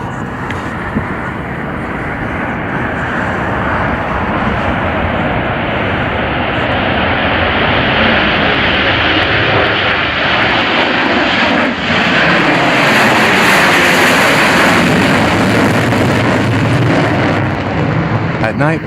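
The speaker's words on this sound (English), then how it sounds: "An impressive takeoff of the supersonic bomber Blackjack." A Tu-160 Blackjack supersonic bomber roars loudly during takeoff, its engines giving a continuous, powerful thundering rush that swells slightly toward the end.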